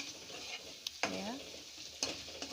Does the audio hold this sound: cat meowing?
no